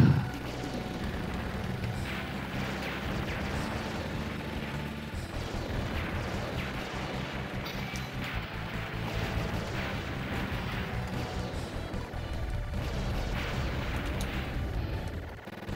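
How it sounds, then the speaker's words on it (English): Repeated booming bomb explosions mixed with constant shooting and a dense game soundtrack in the arcade shooter Strikers 1945 II, steady and loud with no pauses. "Oh, that's right, that's how that bomb works."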